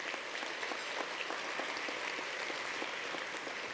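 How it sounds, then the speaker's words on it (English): Applause from a luncheon crowd for sponsors, a dense steady patter of many hands clapping throughout, fairly distant and even. "Please join me in a round of applause for all our sponsors."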